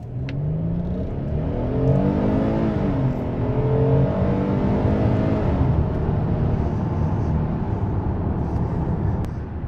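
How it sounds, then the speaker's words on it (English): A 2024 Hyundai Palisade Calligraphy accelerates hard in sport mode, its engine note rising steadily and sweeping up through the gears as a loud, continuous drone heard from inside the cabin, with no speech. "So now let's try sport mode acceleration."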